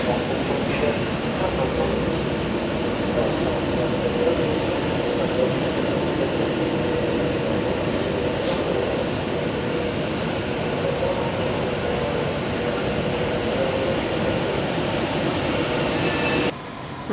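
Avanti West Coast Class 390 Pendolino electric train, unit 390.136, pulling away at Coventry on the West Coast Main Line, a sustained rumbling rail roar with faint wheel squeal and brief high tones, mostly steady and close.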